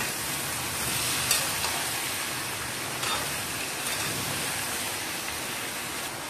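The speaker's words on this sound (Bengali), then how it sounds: "কাঁচা লঙ্কাটা দিয়ে দিলাম, টমেটোগুলো দিয়ে দিচ্ছি, পেঁয়াজটা দিয়ে দিচ্ছি। এবারে ভালো করে কষাবো।" Green chili, tomato, onion and ginger sautéing in a pan, a dense, even sizzle running throughout with a few faint stirring clicks on top.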